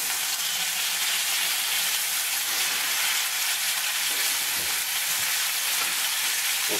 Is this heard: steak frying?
yes